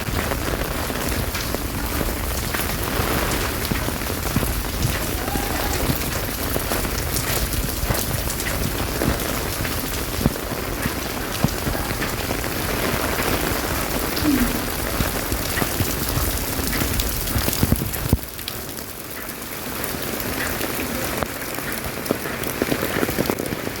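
Heavy rain from Cyclone Remal pours steadily in Bangladesh, a dense, even hiss of drops on surfaces that continues throughout and eases slightly toward the end.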